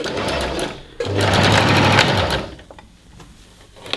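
A sewing machine stitches the side seam of a blanket being refashioned into a top, its fast, steady whir running loud and close for about a second before it slows and stops, with quiet room noise around it.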